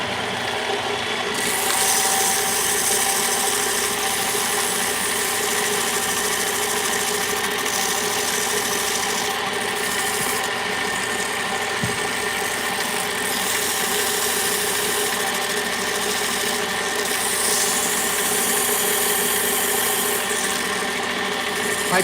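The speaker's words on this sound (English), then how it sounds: "I'm actually going to sand just a little bit longer" A steady, continuous machine drone of a ring with inlay being sanded runs unbroken for the whole stretch, loud and close with a constant whirring hum and no pauses.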